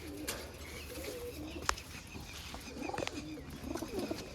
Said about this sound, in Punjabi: ਆ ਵੀਰੇ ਕਿੰਨੇ ਕਬੂਤਰਾਂ ਹੁੰਦੇ ਦੇਖ ਲਓ ਮਖਣੀ ਦਿੱਤੀ ਹੈ ਜੀ ਆ ਬੈਠੇ ਤੁਹਾਡੇ ਸਾਹਮਣੇ ਜੀ